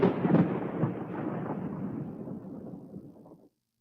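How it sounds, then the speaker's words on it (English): A loud thunderclap breaks, then rolls into a long deep rumble that fades steadily over a few seconds before cutting off. "Here is the sound effect named Thunder"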